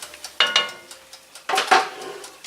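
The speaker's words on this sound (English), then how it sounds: "And we'll stir that in." Spoon stirring stock into a pot of chicken and roasted corn chowder, two close clusters of scraping and clinking strokes against the pot, with no voices.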